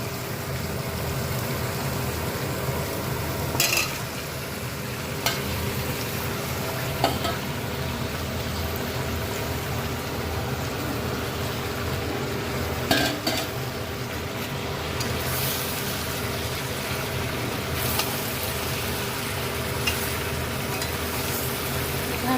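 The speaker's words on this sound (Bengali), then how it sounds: "মশলাটা কষে এসছে, এবার আমি আলুগুলো দিয়ে দেবো।" Potatoes frying in a cooked-down spice masala for aloo dum, a steady close sizzle with occasional scrapes and stirring knocks of a spoon in the pan, continuous throughout with no talking.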